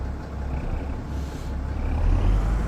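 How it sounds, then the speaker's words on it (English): An air brake hisses on a Fendt tractor from a modded pack in Farming Simulator 25, a broad, loud rush of air that swells toward the end over a low engine rumble. "Never heard air brakes on your Fendt before"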